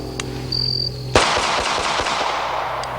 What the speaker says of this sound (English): We'll run about 4 or 5 shots through it rapidly.